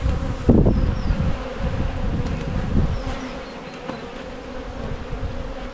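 Honeybees drone steadily around an open hive that has a newly emerged queen from swarm cells, a dense close buzz with a few individual bees flying past.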